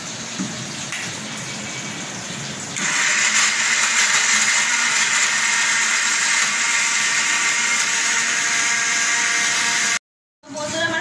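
A kitchen mixer grinder blends spices into a paste for chicken kosha, a loud steady whirring roar that starts about a third of the way in, runs continuously and cuts off briefly just before the end.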